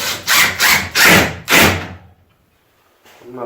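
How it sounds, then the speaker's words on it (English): Four short bursts from a power drill driving screws into a thin wooden playhouse wall, whirring loudly and close, followed by silence and a brief final whirr. "I'm not putting too much pressure in when I'm drilling."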